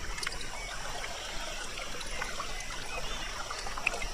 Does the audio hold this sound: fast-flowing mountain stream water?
yes